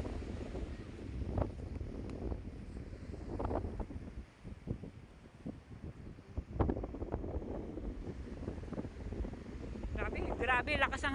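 Strong seaside wind roars steadily across the microphone as a dense, rushing noise, with people talking intermittently beneath it.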